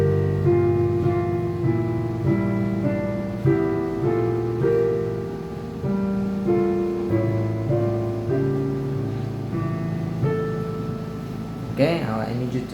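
Both hands together on piano play measures of a piece, a flowing passage of layered chords and melody lasting several seconds at even volume, with no speech over it.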